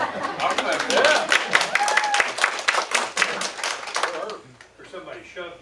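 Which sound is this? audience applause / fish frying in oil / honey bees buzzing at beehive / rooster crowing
audience applause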